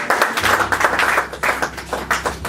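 A church congregation breaks into lively applause, a close, steady wash of many hands clapping with irregular peaks, accompanied by a low sustained hum underneath.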